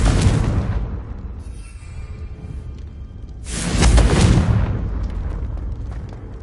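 Two deep booming blasts from the Confringo blasting curse in a Harry Potter game, the first opening loudly and fading, the second swelling a few seconds later with a rumbling tail.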